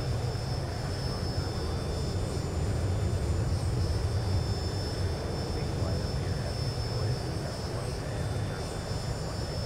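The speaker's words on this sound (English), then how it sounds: "the engine sounds definitely tend to be a little on the strong side" Simulated jet engines of a Zibo Boeing 737-800 in X-Plane 11 roar in a steady, loud, broadband drone with a faint high whine, continuous throughout.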